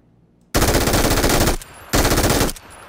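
Automatic gunfire in PUBG, two loud sustained bursts of rapid shots about a second long each, separated by a short pause, close and dominant with no speech.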